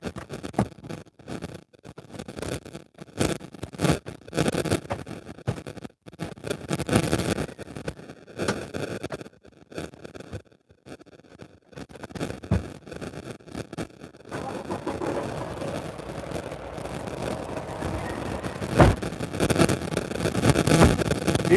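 A truck with 41,000 miles is driven nearby, its engine fairly faint and uneven, surging and fading in intermittent bursts, with a steadier, rougher drone in the final stretch.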